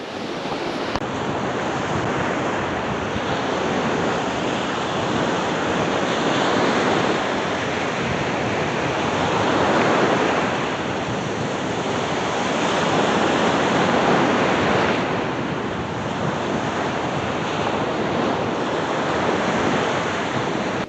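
Ocean surf rolls and breaks on the beach at Mexico Beach, a loud steady wash of crashing waves with gentle swells in intensity and some wind buffeting the microphone.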